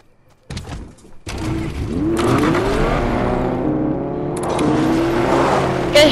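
A car engine in the Fortnite video game revs up and accelerates, the whirring motor climbing in pitch over several seconds, loud and close with no other sound.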